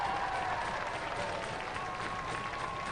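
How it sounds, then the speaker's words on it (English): Studio audience applause at a televised robot combat competition, a steady dense wash of clapping at moderate level with faint crowd noise and a tonal hum running underneath. "Give them a round of applause, ladies and gentlemen"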